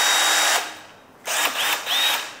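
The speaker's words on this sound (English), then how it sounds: "First time owning a power drill or any sort of power tool, really." A small power drill from a basic tool kit whirs loudly in short bursts, running for a moment, pausing, then spinning up again twice in quick succession, close by and with no talking.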